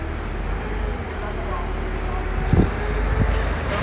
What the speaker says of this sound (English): So the concrete lorry is loading up.